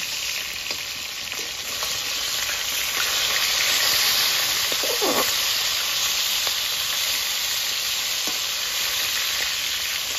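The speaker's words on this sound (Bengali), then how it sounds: "মাছগুলো এক পিঠ ভাজা হয়ে গেছে," Chital fish sizzles loudly in hot oil, a dense, continuous crackle close up with a few faint clinks and no talking.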